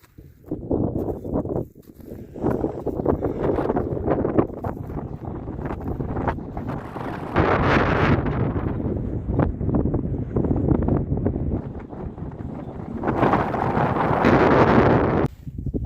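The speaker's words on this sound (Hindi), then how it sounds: "ठंडा इतना है, हवा इतनी चल रही है" Strong, cold wind buffets the microphone on a high mountain trek toward Adi Kailash and Gauri Kund, a continuous loud roar with gusts that swell and ease throughout, and no voices heard.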